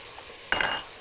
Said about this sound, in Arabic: حطينا كده الزيت والزبده، انزل بالبصلايه تبقى مفرومه ناعم